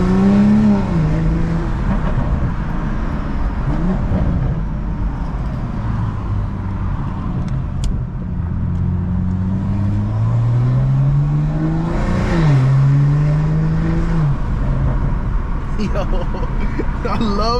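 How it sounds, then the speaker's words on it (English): A BMW M340i engine revs and surges through gear changes, its rising and falling drone continuous and close under ongoing talk inside the car. "This car sounds super nice."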